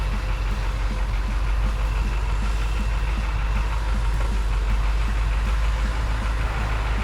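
A street-legal Humvee's engine pulls away, its low, steady rumble droning loud and close throughout with a faint knocking texture and no talking.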